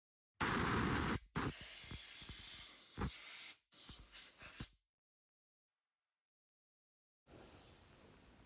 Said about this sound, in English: I now use a bit of brake cleaner and an airline to clean out the internal bores